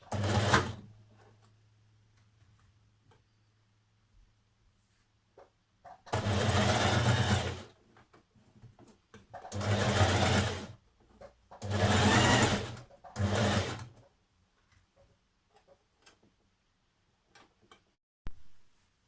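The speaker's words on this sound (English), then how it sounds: "then we're going to stitch along here" A sewing machine stitches the neck facing of a 1940s vintage-style Simplicity 8736 blouse, running in four short, loud bursts separated by quiet pauses, with faint clicks and handling sounds in between.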